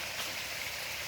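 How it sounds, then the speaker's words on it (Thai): Kham Hom waterfall in Phu Phan district, Sakon Nakhon, heard as a faint, steady hiss of rushing water from some distance, even and unbroken with no other sounds. "ได้ยินเสียงไหมครับเสียงน้ำตก"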